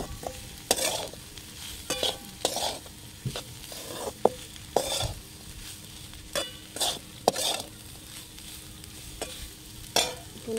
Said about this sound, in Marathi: तर आता आपल्याला हे सोयाबीन ह्यात हलवून घ्यायचं सगळे एकसारखं.